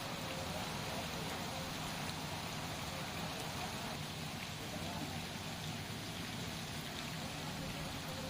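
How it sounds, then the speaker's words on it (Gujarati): Heavy rain pours onto streets in Liliya town in Amreli, with water running on the roads, a constant quiet hiss of falling rain. "લીલિયા શહેરમાં ધોધમાર વરસાદ, ભારે વરસાદના પગલે રસ્તા પર પાણી"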